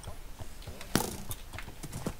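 Horse hooves clop irregularly in a Minecraft game, a string of quick, close hoof thuds with a sharp neigh standing out near the middle, at fairly low level.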